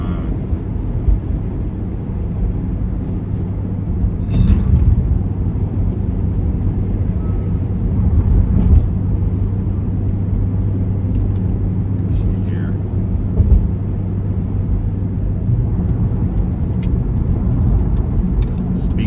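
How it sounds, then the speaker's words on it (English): A car being driven, its steady low engine and road rumble running continuously throughout, with someone talking over the drone inside the cabin. "I'm driving, I might be able to get it real quick."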